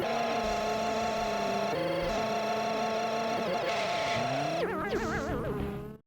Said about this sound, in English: and when those networking issues happen, you're gonna hear sounds like this.